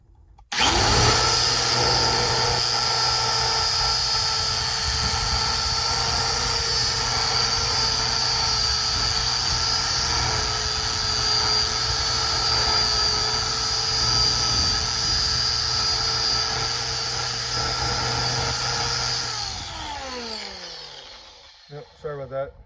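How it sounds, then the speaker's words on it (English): A repaired Milwaukee 6148 angle grinder runs at full speed with a loud, steady high whine for about twenty seconds, then spins down as the motor is released. "Now with the repaired grinder, we can make quick work of this"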